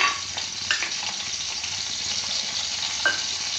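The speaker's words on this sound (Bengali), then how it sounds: "এই রসুন থেতো করে রেখেছি, রসুন দিয়ে দেব" Crushed garlic fries in two spoons of hot oil, giving a steady broadband sizzle with occasional spatula scrapes, close and continuous, with no speech.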